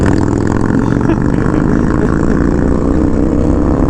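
A Honda Rebel 1100 motorcycle engine revs with a loud, continuous exhaust roar, close to the microphone and rising slightly in pitch.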